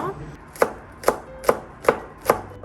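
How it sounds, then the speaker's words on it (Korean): Five evenly spaced knife chops strike a cutting board while Cheongyang chili peppers are sliced, crisp and close, each a sharp thud with short quiet gaps between. "청양고추도 미리 썰어놓고"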